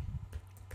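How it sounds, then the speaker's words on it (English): Fast typing on a computer keyboard, a few quick close key clicks in a brief burst over a low background hum. "So I simply type"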